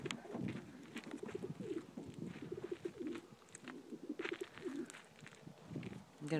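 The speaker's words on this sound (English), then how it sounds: "I'm going to release the birds." Homing pigeons cooing just before release beside a road, a soft cluster of repeated throaty coos and rustles, close and steady throughout.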